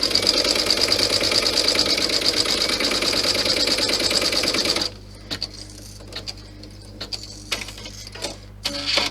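An embroidery sewing machine stitches out placement guides in a 4x4 hoop, a loud, fast, steady needle rattle for about five seconds before stopping, followed by quieter scattered clicks and handling sounds.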